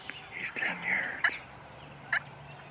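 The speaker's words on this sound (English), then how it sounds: "With this big gobbler at only 10 yards away" A big wild gobbler turkey gobbles at close range, about ten yards away, with a rapid rattling burst followed by a couple of short, sharp calls over faint outdoor background noise.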